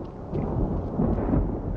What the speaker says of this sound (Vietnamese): sét đánh mà chớp thì ghê